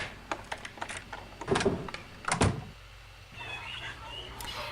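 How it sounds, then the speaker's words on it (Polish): Key turning in an apartment door lock in the Ace Ventura video game: a run of small mechanical clicks, then two louder rattling clunks as the door opens, followed by a quieter hum. "wyciągamy klucz, po prostu e, otwieramy sobie drzwi"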